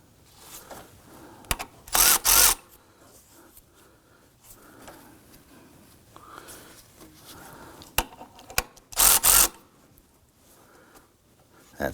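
On a 2005-2009 Subaru Legacy 2.5L H4, the belt tensioner is tightened with a power tool, heard as two short, loud bursts several seconds apart over a quiet background with faint handling noises.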